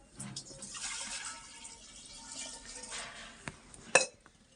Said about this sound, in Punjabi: ਉੱਪਰ ਧਰ ਦਿੰਨੇ ਆ ਪਤੀਲਾ ਪਤੀਲੇ ਦੇ ਵਿੱਚ ਆਪਾਂ ਪਾਣੀ ਪਾ ਦਿੰਨੇ ਆ